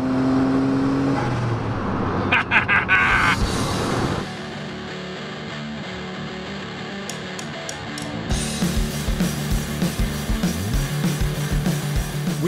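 A turbocharged car engine's induction revs and hisses close by, its pitch rising and falling, then settling into a steady whirring drone with sharper bursts later on.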